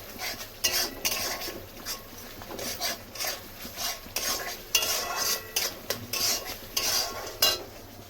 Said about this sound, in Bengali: দিয়ে দেবো জিরে গুঁড়ো 2 চামচ, আবার কিছুক্ষণ ভেজে নেব।